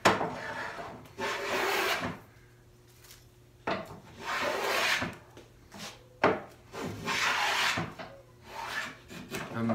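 A hand plane with a non-skewed iron shaves a wooden panel for a sideboard in a series of long rasping strokes with brief pauses between, close and without talk.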